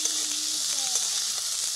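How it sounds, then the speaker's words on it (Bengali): Long beans fry in a kadai, giving a steady, even sizzle close by, faint but continuous, with no talk over it. "এদিকে বরবটিটা হালকা আছে কড়াইতে ভাজা হতে হতে"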